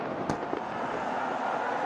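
A single sharp firework burst cracks over a dense, steady crowd roar at a Bangladesh Premier League cricket match between Chattogram Royals and Dhaka Capitals in Dhaka.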